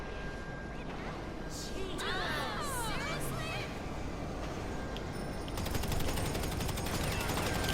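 Rapid bursts of gunfire in GTA 5, a cluster of sharp shots followed by sustained machine-gun-like rattling, mixed with background commotion and game noise.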